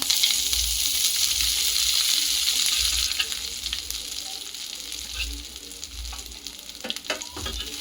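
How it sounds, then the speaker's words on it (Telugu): Mint leaves frying and being stirred in a hot oiled pan, where green chillies have just been fried, a steady loud sizzle with intermittent scraping stirs throughout, no talk. "దీన్ని మధ్య మధ్యలో కలుపుకుంటా వేపుకుందాం"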